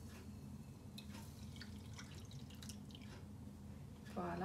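Water poured into instant Nescafé coffee for dipping biscuits, a steady close trickle of liquid with scattered drips and splashes running throughout, growing slightly louder near the end.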